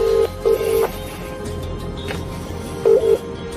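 A telephone number is dialled by a High Court enforcement agent: a few short, fairly loud keypad tones, some in quick pairs, separated by quiet hiss and no talking.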